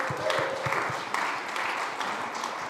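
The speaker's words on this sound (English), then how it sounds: "Give him a round of applause" Audience applause at a SXSW 2025 Food is Medicine panel, a steady wash of clapping that continues under the room's noise for the whole stretch.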